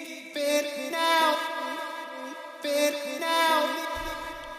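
Tropical house vocal chop without formant shifting, a bright, clean pitched vocal phrase stepping through short repeated syllables in two swelling passes, a low synth note entering near the end, no talking.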